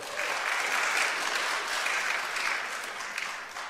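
Church congregation clapping in a sanctuary, a full, sustained burst of many hands applauding at an even level, easing slightly toward the end.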